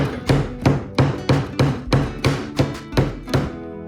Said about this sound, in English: then I'll just hammer in a nail